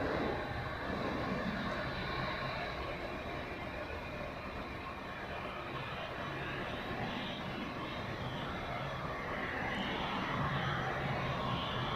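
Challenger 300 business jets at Zurich Airport make a steady, distant jet roar that swells and holds, broad and even across the whole stretch.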